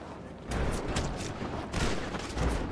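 Bursts of gunfire in the GTA V video game, several loud volleys in rapid succession with short pauses between them, close and heavy.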